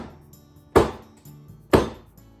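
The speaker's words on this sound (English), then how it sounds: "And drop it a few times to flatten." A cupcake pan of matcha anko batter is dropped onto a kitchen counter, giving two sharp, loud knocks about a second apart, each dying away quickly over a quiet background.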